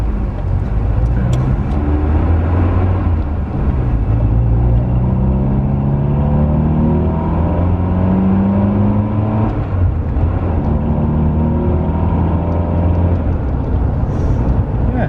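A Ford Capri Cabaret pulls away and drives on, its engine rumbling steadily and close with rising and falling pitch through the gears, loud throughout with no talk.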